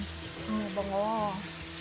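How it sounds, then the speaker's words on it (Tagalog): Chicken adobo with plenty of garlic and onion fries in a pan, giving a soft, steady sizzle while it is stirred, with a brief voiced hum over the middle. "Halo-haloin ko lang ng konti or ibiling para masangkot siya siyang mabuti"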